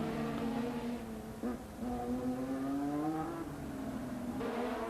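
A 1984 Formula 1 race car engine screams as it accelerates through the gears, a high rising whine with a brief shift dip, loud and steady over crowd-free track ambience.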